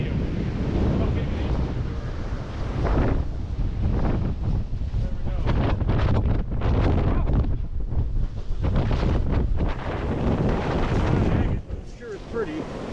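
A wind storm roars along a Michigan shoreline, with loud gusts buffeting the microphone over surging waves that swell and ease. It stays continuous and close, with brief bits of speech.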